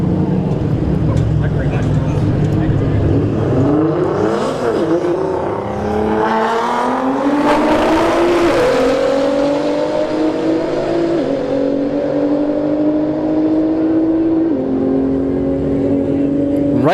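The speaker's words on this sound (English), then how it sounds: "we have a ZL1 Camaro versus a Nissan GTR in the right lane" A ZL1 Camaro and a Nissan GTR launching down a drag strip quarter-mile, engines roaring loud and continuous as revs climb and shift upward through the gears.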